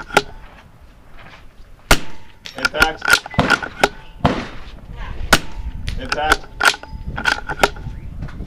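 Rifle shots at an NRL22 shooting match, several sharp close cracks at irregular intervals, with people talking between them.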